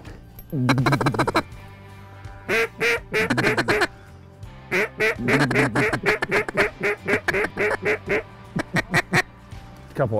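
Mallard hen ducks on a November hunt in South Dakota quack in loud, close bursts, with repeated rapid quacking series broken by short pauses.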